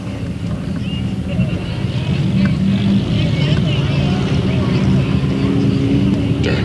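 A race car on the Delta Speedway track, a sustained engine roar droning under an announcer's voice for several seconds.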